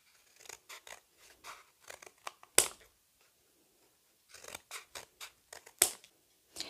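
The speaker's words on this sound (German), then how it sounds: "Als nächstes nehme ich jetzt eine etwas größere Schere und schneide mir einfach Streifen." Large scissors cutting a cardboard paper roll into strips for a craft star, a series of close, crisp snipping cuts in two bursts separated by a pause, each burst ending in a sharper louder snip.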